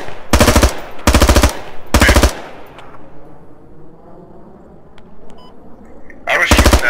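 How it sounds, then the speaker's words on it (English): Loud .50 caliber machine gun in a military video game firing long bursts at a BMP armored vehicle, three rapid bursts up front, a quieter gap with faint ambience, then another burst at the end. "I was shooting that fucking BMP. With the 50."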